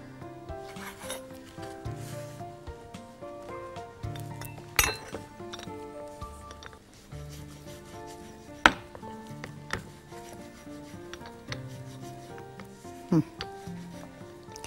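A knife trims the crusts off slices of toast bread, giving a few sharp cutting and tapping strokes on a board under steady background music.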